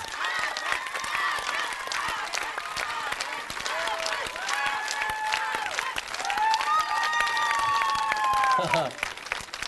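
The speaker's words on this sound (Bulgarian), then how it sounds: "Аплодисменти за двата отбора, Абракс и Folk Fitness." Studio audience applauding two dance teams, Abrax and Folk Fitness, after a rachenitsa on a Bulgarian TV dance show, steady loud clapping and cheering that runs throughout with music tones and voices mixed in, then cuts off near the end.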